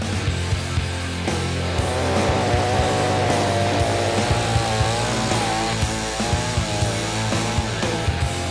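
A chainsaw cuts through a sago palm (Metroxylon sagu) trunk, running loud and close with a steady engine drone that rises and dips in pitch as the chain bites into the wood.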